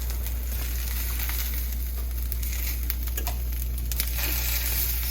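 Potato pancakes frying in hot oil give off a constant loud sizzle and crackle with scattered pops, and no one speaks over it.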